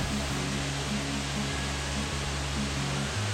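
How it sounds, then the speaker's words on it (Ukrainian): Steady, dense rush of Powerscourt Waterfall in Ireland falling over rocks, close and continuous, with a low rumbling undertone and no voices. "і з різних боків водоспад звучить по-різному."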